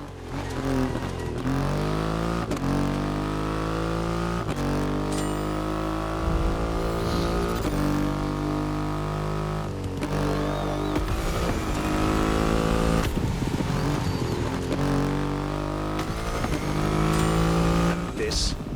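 Triumph Rocket 3 motorcycle with its 2.5-liter engine in the racing game The Crew Motorfest, a loud, close, continuous engine drone that rises and falls through repeated revs and gear shifts.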